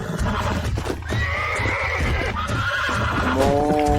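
Horses in the Red Dead Redemption video game whinny and neigh loudly over rapid clip-clopping hooves, with several neighs rising near the end.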